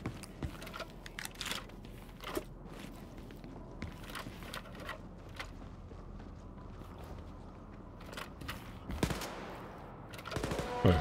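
Gunfire in the video game Wolfenstein: Youngblood, scattered sharp shots and short bursts cracking over a busy game soundscape, with a louder volley near the end.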